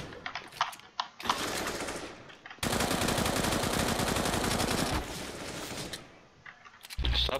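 Rapid automatic gunfire in the video game CS:GO, sustained loud bursts with brief pauses between them, dense and continuous through most of the stretch.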